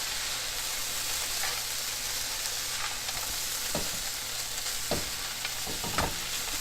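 Frozen peas being stirred into fried rice in a hot pan, a steady sizzling hiss with several spatula scrapes and taps near the end, close and without talk.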